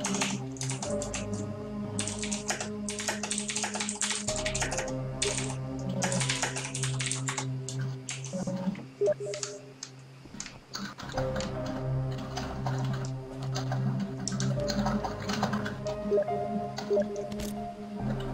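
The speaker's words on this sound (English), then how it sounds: "I can hear you typing." Rapid clicking keystrokes on a computer keyboard patter continuously in the zombie video game Dead Island, mixed with in-game ambience and tones, moderately loud throughout with a brief lull midway.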